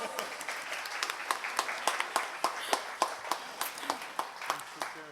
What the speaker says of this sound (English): we have to give her a round of applause